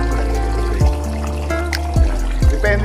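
Water pours into a pot of rice being readied for steaming, a steady close trickle with a few sharper splashes and knocks, no talking.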